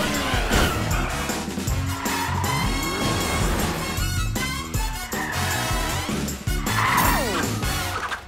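Cartoon cat car from PJ Masks driving off, an engine revving loudly with squealing tires and whooshing motion over a busy animated soundtrack.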